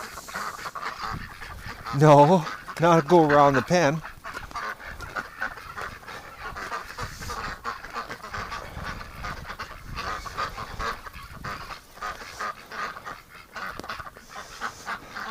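Ducks being herded toward a metal shed on a winter farm give a short run of loud honking quacks early on, followed by a steady outdoor rustle while a person talks to them.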